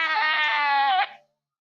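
A voice imitates a dial-up modem connecting to the internet, giving a loud, continuous screeching tone with rich harmonics that holds steady for about a second and then cuts off.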